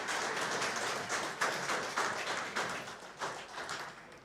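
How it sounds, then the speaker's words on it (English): Warm applause from a snooker crowd at the Scottish Open, greeting Oscar Dominguez after he wins the match, steady clapping from many hands at moderate distance, swelling and fading over a few seconds with no voices on top. "A very warm round of applause for Oscar there."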